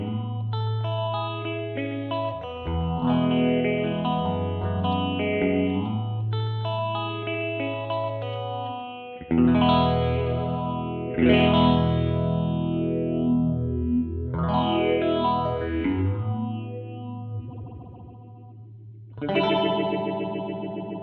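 A Death By Audio phaser pedal on its blue setting gives guitar a sharp, resonant treble sweep, playing chords and melodic lines, the swirling effect pulsing steadily throughout with no voices.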